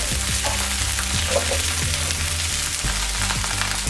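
White beans tipped into a pan of frying onions, a dense loud sizzle that fills the whole moment, with low thumping stirring knocks close by and no voices.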